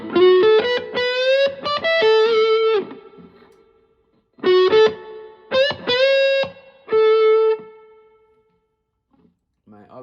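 An electric guitar plays through a Positive Grid Spark 40 amp with distorted tone and reverb, sounding two loud phrases of strummed and picked chords that ring out and fade into a short reverb tail.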